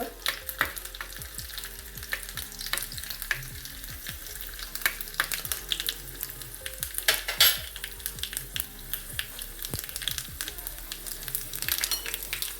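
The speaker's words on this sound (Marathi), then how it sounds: "थोडं लसूण घालायचं लाल मिरची टाकायची तडका करतोय आपण" Garlic and dried red chilies sizzle in hot oil for a tadka with mustard seeds, a steady bright crackle broken by frequent sharp pops and spatters, with occasional clinks of a spoon or pan.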